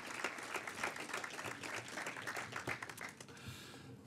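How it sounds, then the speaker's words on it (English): A room full of people at an awards ceremony claps steadily, a warm round of applause that tapers off near the end. "I think we deserve to give her an enormous round of applause."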